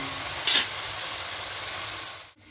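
Onions sautéing in a pan for ilish pulao, a steady close sizzle that holds throughout with a brief stir-like scrape near the start and a short dip at the end, no voices.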